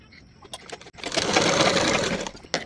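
An electric sewing machine stitches a seam on a half-collar blouse, giving a close, loud, even whirr of about a second and a half, bracketed by a few short clicks and taps, with no talking.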